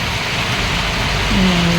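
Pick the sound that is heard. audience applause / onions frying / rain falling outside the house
rain falling outside the house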